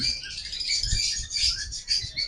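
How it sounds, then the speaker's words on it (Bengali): A room crowded with lovebirds and pied cockatiels fills with dense, overlapping high chirps and tweets, continuous and lively, with no voices. "দেখুন বন্ধুরা পুরো ঘরে পাখি ভর্তি"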